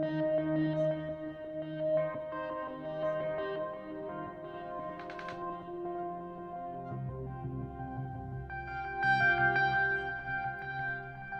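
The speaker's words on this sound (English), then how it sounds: "just a touch of the reverb on that" A sustained synth lead plays a slow melodic line washed in reverb, its notes ringing and blending together.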